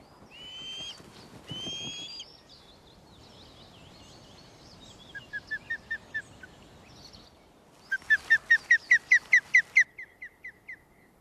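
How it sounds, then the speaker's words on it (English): Osprey calling from its nest, a series of sharp chirping whistles: a few scattered calls early, a short rhythmic run mid-way, then a louder, faster string of about a dozen piercing notes near the end, fairly close with faint background. "Now that's a different sound than what I heard earlier. That's a communication call."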